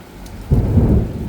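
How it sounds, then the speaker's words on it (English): A low thunder rumble swells under a steady wash of heavy rain, loud and close. "just rain falling thick to the ground"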